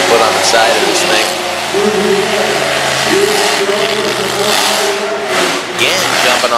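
A pickup-style monster truck's engine revs loud and close at an outdoor monster truck show in Harrington, Delaware, a sustained roar that rises and falls as the truck jumps, with an announcer talking over it.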